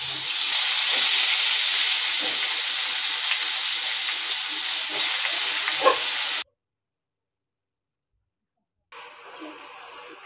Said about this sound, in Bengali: আলু ভেজে নেওয়ার পর একই তেলে দিচ্ছি তেজপাতা আর দিচ্ছি পেঁয়াজ বাটা।